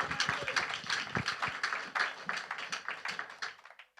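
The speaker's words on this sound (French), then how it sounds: "Applaudissez pour le Seigneur." A church congregation applauds at a Sunday evening service, a brisk run of scattered hand claps that holds steady and then stops abruptly, moderately close.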